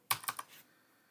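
A short burst of typing on a computer keyboard, four or five quick close keystrokes within half a second, then quiet.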